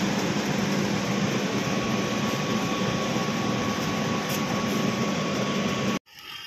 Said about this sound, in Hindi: ब्लोअर भी चल रहा है